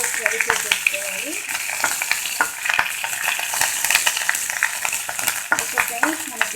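Cumin, mustard seeds, curry leaves and chillies fry in hot oil for a tempering, with steady crackling sizzle and frequent sharp pops and stirring clicks, close and alone.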